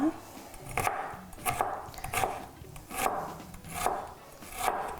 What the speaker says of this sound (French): Je vais commencer à couper ça, vraiment hacher finement.